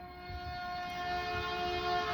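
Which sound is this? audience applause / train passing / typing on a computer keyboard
train passing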